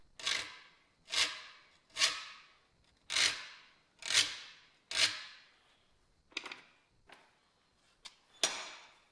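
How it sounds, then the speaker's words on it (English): Antique cross-cut hand saw's teeth being sharpened with a hand file: about ten separate rasping strokes in a steady rhythm, each a loud, close, gritty swipe with short pauses between, the last few shorter and uneven. "I need to file every other tooth at a 65-degree angle"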